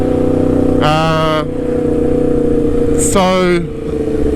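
A motorcycle ridden in winter, its engine droning loudly and close, with two short rising revs, and someone talking over it.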